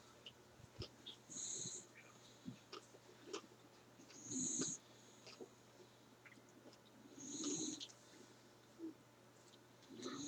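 A sleeping dog snores faintly and close by in a slow rhythm, with wheezy, snorting breaths recurring every few seconds over quiet room hum.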